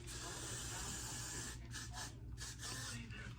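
Hair glue spray hisses out of a can in one long continuous burst, followed by a few short broken puffs, faint and close.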